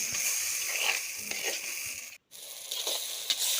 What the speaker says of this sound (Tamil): கிளறி விட்டுட்டு கொஞ்சம் நல்லா எண்ணெய் பிரிஞ்சு வர அளவுக்கு நல்லா கிளறி விட்டுடலாம்.